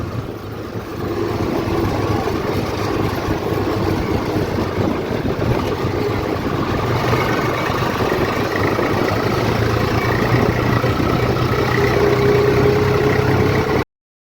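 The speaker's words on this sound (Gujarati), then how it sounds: "તમે જોઈ શકો છો આ બધો ટ્રેક્ટર મૂકાઈ જાય છે ગામના" Several village tractors sit idling together, making a steady, fairly loud low engine rumble that carries on unchanged throughout with no voices.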